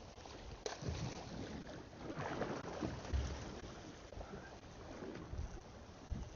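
Steady wind buffets a Warrior 175 fishing boat drifting at sea over a wreck, a continuous broadband rush with occasional gusts and faint thumps of water against the hull, no talking.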